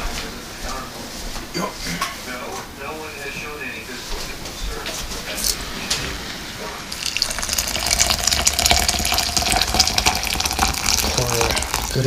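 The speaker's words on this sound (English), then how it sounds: "Pour a good amount of that water." Freshly boiled hot water poured to clean and sterilize sand, a steady gushing pour rising louder midway and running to the end, with a voice speaking underneath.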